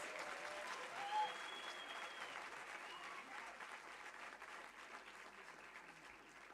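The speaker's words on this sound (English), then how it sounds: "No, we need another big round of applause." An audience at a university book launch gives the author a warm round of applause, steady and fairly faint, as if heard from across the hall, with a brief whistle-like tone early on.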